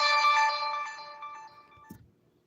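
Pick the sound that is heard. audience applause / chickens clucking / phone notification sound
phone notification sound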